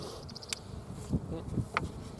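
Honeybees buzzing steadily around a strong, busy open beehive, a dense close drone with a few louder passes of individual bees flying near, no voices.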